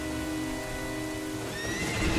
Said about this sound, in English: So someone's on a horse.